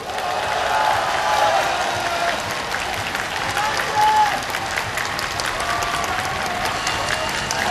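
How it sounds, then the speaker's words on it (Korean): A crowd of citizens at an outdoor political rally applauds steadily, a dense and even wash of clapping with some faint cheering, heard from a distance and without interruption. "시민 여러분, 우리 한명숙 총리님께 박수 한번 안 보내주시겠습니까?"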